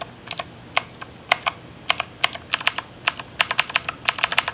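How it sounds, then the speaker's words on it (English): Fast typing on a Cooler Master CK-550 mechanical keyboard: quick, irregular bursts of crisp, clacky keystrokes, close and clear over a quiet background with no talking. "Let's listen to the sound of this mechanical keyboard."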